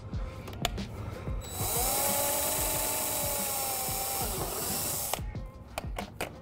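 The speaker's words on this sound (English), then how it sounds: "I'm only drilling through 1/8 inch panel, so obviously no need to go full in." Cordless power drill boring through a 1/8 inch panel while fitting rear diffuser inserts on a C8 Corvette Stingray, a close, steady whine of about three seconds between short clicks and handling knocks.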